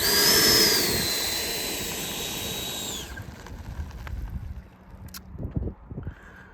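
An FMS 70mm Viper RC jet with a ducted fan and afterburner flies past, a loud high-pitched whine for about three seconds that drops in pitch as it passes and then fades into quieter outdoor noise.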